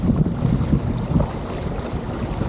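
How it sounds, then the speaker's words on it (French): Gusty wind buffets the microphone while small waves slap and wash around a motorized paddle board on a lake, a rough, low rumbling roar that rises and falls close by. "Étant donné le vent, étant donné les vagues,"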